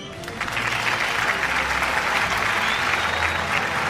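Audience applause at an annual award show, a dense, steady wash of many hands clapping that swells in at the start and holds loud and continuous throughout.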